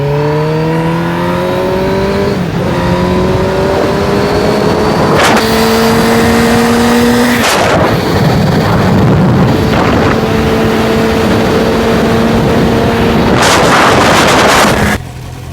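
A Suzuki GSX-R750 sport motorcycle engine revs hard through several gears, pitch climbing then dropping at each shift, loud and close amid wind noise.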